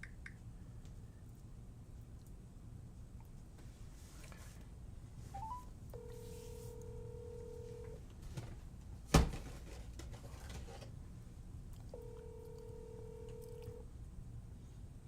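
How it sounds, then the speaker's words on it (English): Video call dialing tone: two long, evenly spaced two-note ringing tones repeat clearly over a quiet room hum, with a single sharp click between them and no talking. "Let me call Rupert"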